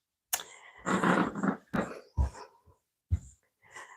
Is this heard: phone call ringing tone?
no